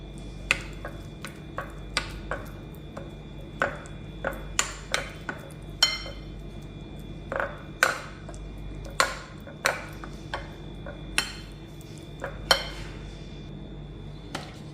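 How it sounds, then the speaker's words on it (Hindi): A spoon clinks against a bowl in a steady series of sharp, ringing taps as mutton marinade is mixed with ginger garlic paste and salt, close and distinct over a quiet background. "अब इसे मिक्स करना अच्छे से"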